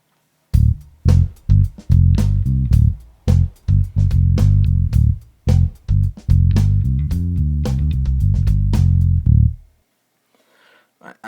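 Fingerstyle electric bass through a SansAmp Bass Driver pedal set with bass boost, playing a loud riff of plucked notes with strong low end and sharp attacks for about nine seconds, then stopping into near silence.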